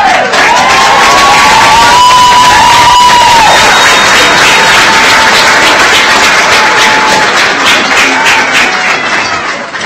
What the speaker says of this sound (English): Graduates, would you like to stand and give a round of applause to your friends and family?